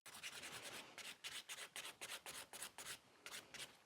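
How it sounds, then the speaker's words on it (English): Nail file rasping across the free edge of a sculpted acrylic stiletto nail, quick rhythmic back-and-forth strokes in close, soft bursts with brief pauses between groups. "I'm only filing, like with this movement, I'm only actually removing excess of the product"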